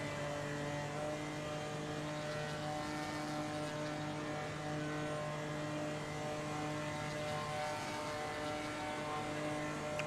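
Race car engine from a racing game replay, a steady, loud droning hum with fixed harmonic tones that holds unchanged throughout with no voices.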